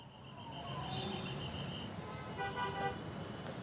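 Road traffic at the Chilla border in Delhi, a faint, distant flow of vehicles with short car horn toots sounding over a steady low rumble.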